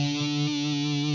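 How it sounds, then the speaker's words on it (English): A heavily distorted electric guitar note from the EastWest sampled guitar library bends upward, one thick sustained buzzing tone ringing loud and unbroken for about a second. "Distortion bend up."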